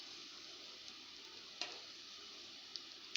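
Chicken bread rolls fry lightly in oil with a soft, constant high hiss, faint and even, broken by a few tiny ticks and pops; no talking.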